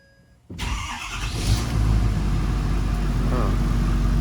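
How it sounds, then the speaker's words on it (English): A car engine cranks and fires up after fresh fluids, jumping from near silence to a close, steady running rumble that grows slightly louder and settles into a continuous idle, with faint background speech. "I'm just gonna fire it up and check it out."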